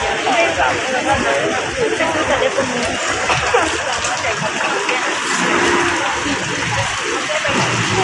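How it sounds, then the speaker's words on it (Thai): Heavy rain pours down steadily over an outdoor market street, a dense, continuous hiss filling the whole clip with a roar of people talking underneath. "ไม่ไหวแล้วฝนตกหนักมาก"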